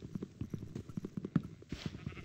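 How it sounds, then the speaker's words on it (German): Video game sheep bleat in quick repeated bursts, several overlapping calls in a close, busy cluster of short rhythmic cries. "Hier sind Schafe."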